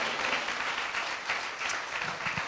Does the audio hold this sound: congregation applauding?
yes